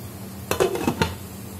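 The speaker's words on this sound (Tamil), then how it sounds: "நாம இப்போ மூடி வச்சிருவோம்." A metal lid clanks onto a cooking pot of tomatoes and green chillies for a mutton curry, giving a short cluster of two or three close metallic clinks and rattles before settling.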